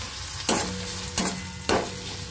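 Onions fry in a pan with a continuous soft sizzle, and three sharp scrapes of a spatula stirring them come at roughly even intervals, close and without speech.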